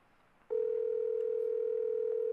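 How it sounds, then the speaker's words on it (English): A steady electronic telephone tone from the video game Your Toy begins abruptly after a faint quiet stretch and holds unchanged, loud and clear, with nothing else over it. "once you input this phone number, it'll make a call"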